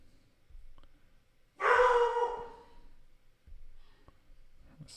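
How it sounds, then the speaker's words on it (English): A dog barks once loudly from downstairs in a house, a single sharp bark with a short tail, then quieter background sounds and small thumps follow. "This is my dog doorbell downstairs."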